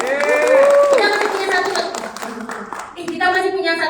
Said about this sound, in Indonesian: makasih untuk dari kelompok ini kita berikan tepuk tangan dulu